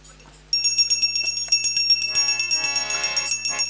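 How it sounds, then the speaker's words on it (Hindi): A temple bell rings in rapid repeated strokes with a conch sounding a steady tone during a Hindu Satyanarayan Katha ceremony and temple consecration, bright clanging continuing close and fairly loud. "घंटी शंख बजा दें।"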